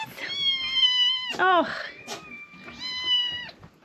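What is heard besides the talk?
farm cats meowing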